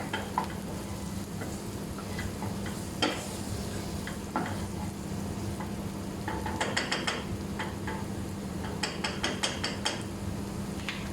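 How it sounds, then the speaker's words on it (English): Diced onion cooking in a hot pan gives a steady, close sizzle that runs the whole time, broken by scattered clinks and scrapes of a utensil stirring, with a few brisker bursts of crackle near the end. "which we have diced, and that's going straight into the pan, okay? So we're just going to cook our onion down."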